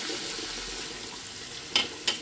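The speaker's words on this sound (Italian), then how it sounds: "andiamo a sciacquare il rasoio" Water runs steadily from a tap while a straight razor is rinsed, with two brief louder splashes near the end as the blade passes under the stream.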